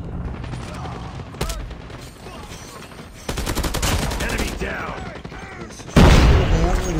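Machine gun fire in a shooter video game, with sustained rattling bursts that intensify partway through and end in a louder burst near the end, over busy game effects.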